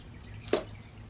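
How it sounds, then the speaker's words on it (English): A single small drip of water from a shoe-cleaning brush being dipped during sneaker cleaning, one brief close splash over a quiet background. "We dip this in the water."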